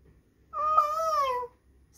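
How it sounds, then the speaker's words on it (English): A single drawn-out meow, about a second long, rising then falling in pitch, heard close and clear against a quiet background. "A cat did not just do that out of nowhere."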